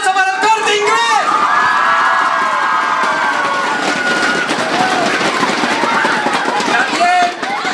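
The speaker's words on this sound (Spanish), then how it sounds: "¡Un fuerte aplauso para el Corte Inglés!" An event audience at a Mallorca gathering breaks into cheering and applause, a loud continuous crowd roar with whistles and shouts that holds steady throughout, voices blending into the noise.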